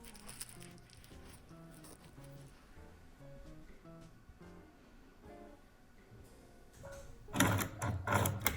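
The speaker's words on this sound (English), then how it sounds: "using a short straight stitch of your sewing machine, you sew facing and fabric in place" A sewing machine runs a short straight stitch through a jacket facing and its main fabric for a piped buttonhole, a brief loud burst of rapid stitching at the end after soft background music.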